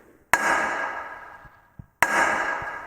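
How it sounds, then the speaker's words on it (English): A jointer's blade guard snaps back over the knives, two sharp close wooden clacks about two seconds apart, each with a short ringing decay, with faint small knocks between. "That noise tells me that the blade guard has returned over the knives."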